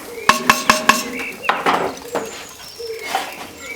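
A metal lid clinks onto a Dutch oven of chicken curry cooking outdoors on a Kamado Joe grill, a quick run of four bright metallic clinks followed by softer knocks and scraping.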